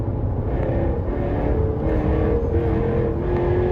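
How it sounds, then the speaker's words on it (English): A 2016 Jaguar F-Type R with a supercharged 550 hp V8 and all-wheel drive revs in quick throttle blips. Its rumbling exhaust note rises and falls in a sustained, loud growl with no speech over it. "the crazy throttle response you get out of it"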